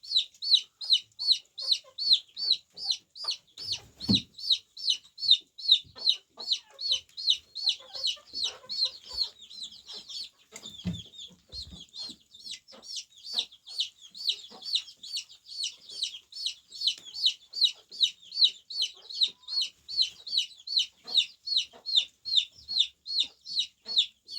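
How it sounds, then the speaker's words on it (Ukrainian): Bantam chickens cluck rhythmically in quick repeated bursts throughout, fairly close, with a few soft thumps and rustles beneath and no speech. "Тут у мене карликові дорослі, молодий карликовий когутик."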